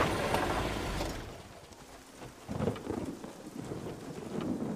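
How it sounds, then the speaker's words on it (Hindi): Heavy rain pours steadily with deep rumbles of thunder, a loud roll at the start and another swelling midway, no voices, from a Hindi-dubbed movie. "बारिश 1 मिनट के लिए भी नहीं रुकी है"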